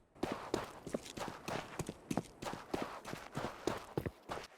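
Footsteps crunching on dirt-mixed stone ground in the middle area of the Counter-Strike Anubis map, a steady run of close, evenly paced steps with no talk.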